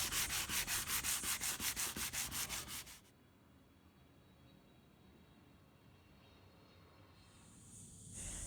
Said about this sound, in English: Inside the boat, I sanded the cracks where the glue had squeezed through.